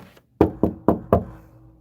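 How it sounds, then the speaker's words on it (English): Four firm knocks on a door in a steady, evenly spaced rhythm, loud and close, with a short resonant thud after each rap and no voices. "A knock comes on the door."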